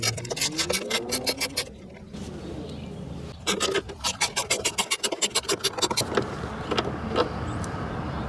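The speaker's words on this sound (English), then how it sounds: "I'm going to use an 8mm socket to take these out." A socket wrench ratchets out the taillight bolts at the tailgate of a Honda Pilot, giving close, rapid clicking bursts separated by brief pauses and scraping handling noise.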